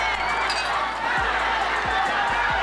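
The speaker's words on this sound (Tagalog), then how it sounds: "Crowd getting excited here." A boxing crowd getting excited, a steady roar of many voices with some cheering, loud and continuous, with a few low thumps underneath.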